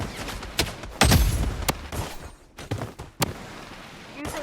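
Gunshots ring out in the shooter game Blood Strike as a few sharp separate cracks and booms, one heavy blast near the middle, over a busy game background with a voice calling out.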